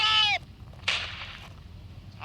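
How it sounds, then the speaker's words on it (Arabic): Gunfire in an Iraqi tribal setting, two sharp bursts in quick succession, the first a bright ringing crack and the second a broad noisy blast, fading into a quiet background. "شنو هذا صوت الرمي؟"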